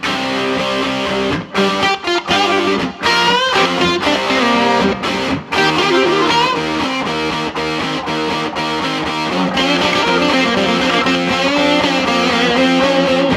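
Distorted electric guitar played through a 1970 Marshall Blues Breaker amp with the high end rolled off around 8 kHz, giving loud, continuous chords and riffs with a darker, less fizzy edge and no talking.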